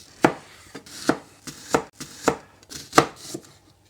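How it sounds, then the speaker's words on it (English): A kitchen knife chops through an onion on a board, about eight crisp, close strikes at an uneven, steady pace with no voices. "Now we can cut up an onion."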